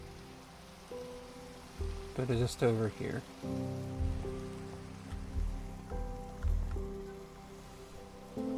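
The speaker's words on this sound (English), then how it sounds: "Yeah, it's raining over here." Steady rain falling in Minecraft, a continuous soft hiss of drops under two people chatting, with low background game sounds throughout.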